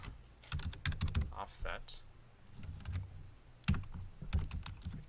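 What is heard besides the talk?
typing on a computer keyboard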